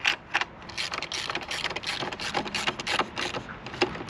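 A size 10 tool tightens the black screw on a Can-Am Spyder F3 during a backrest installation, giving a run of close, dry ratcheting clicks in uneven bursts, with no talk.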